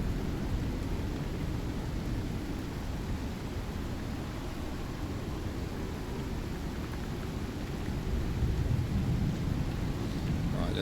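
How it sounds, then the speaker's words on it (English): A thunderstorm in the video game Icarus, steady heavy rain with a deep continuous rumble of thunder, loud and unbroken throughout. "Which looks like this might be quite a bad storm."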